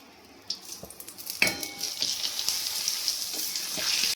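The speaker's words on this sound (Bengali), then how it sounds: "পাঁপড় দিলেই একদম ঝপ ঝপ ঝপ ঝপ ভাজা হয়ে যাচ্ছে" Small papad crisp in hot oil for a Bengali meal with a bright, crackling sizzle that swells in sudden bursts as pieces go in, with a few light utensil clinks and no talking.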